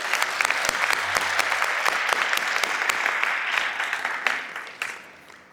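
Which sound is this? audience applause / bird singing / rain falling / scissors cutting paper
audience applause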